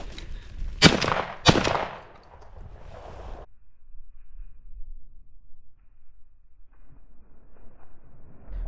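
A shotgun-style gunshot fired at a rabbit while hunting along a fence row, two sharp loud blasts close together near the start, then quiet outdoor air with faint wind.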